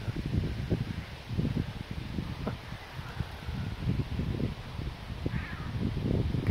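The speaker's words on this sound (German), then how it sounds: "Krähen sind irgendwo in der Luft." Crows caw somewhere overhead outdoors on a windy day, a few faint calls scattered over rustling wind and leaf noise, fairly distant.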